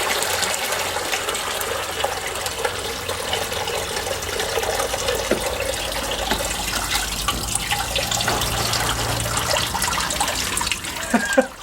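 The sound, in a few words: water flushing out of a coolant bottle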